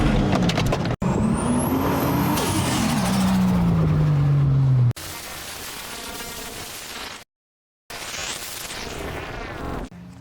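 A Toyota Altezza IS300 fitted with a 2JZ-GTE engine is heard in a string of cut shots: a loud engine revving and shifting with rising and falling tones, then quieter running, a brief silence and more engine noise, with no talking.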